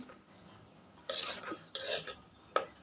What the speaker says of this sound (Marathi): आता मम्मा मिक्स करत आहे